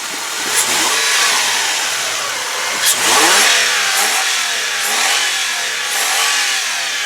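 A 1997 Toyota 4Runner's 3.4 liter, 24 valve engine revs up and down several times in close succession, rising and falling pitch sweeps over a steady running drone, loud and close.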